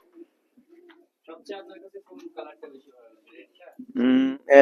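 Pigeons coo in a 20-year-old bamboo cage used for commercial pigeon rearing. Soft, scattered low coos and murmurs come at first, then a louder, fuller coo near the end.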